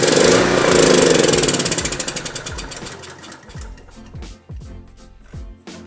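A Honda EB3500 generator engine roars at first, then its steady beat slows into a series of loud, uneven chugs and sputters with gaps between them. No one speaks.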